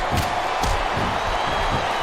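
Cheering wrestling crowd in the video game WWE SmackDown vs. Raw 2007 during a Booker T vs. Matt Hardy vs. Bobby Lashley match: a loud, constant arena roar with a few thumps rising out of it.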